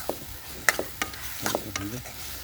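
Ridge gourd curry being stirred in a pan, a few scraping clinks of the spoon against the metal over a soft, low sizzle, close and fairly quiet.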